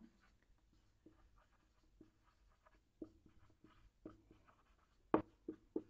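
Chalk or marker strokes on a board during an agriculture lecture: a sparse run of short scratchy taps and squeaks, quiet at first and louder toward the end, with no talking.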